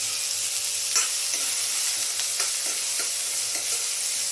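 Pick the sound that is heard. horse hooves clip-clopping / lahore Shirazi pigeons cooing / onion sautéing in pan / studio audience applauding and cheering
onion sautéing in pan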